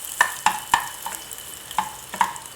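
Ginger sizzles in a frying pan while a utensil scrapes and taps against it, giving about seven sharp clinks in an irregular rhythm over soft frying, close up.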